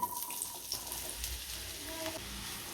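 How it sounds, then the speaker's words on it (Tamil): Three sliced large onions hit hot oil in a kadai, giving a steady, close sizzling hiss with small crackles that runs throughout without talk. "இப்போ நான் மூணு பெரிய வெங்காயத்தை இப்படி இப்படியாக கட் பண்ணி வச்சுருக்கேன் அதை இதில் சேர்த்துப்போம்"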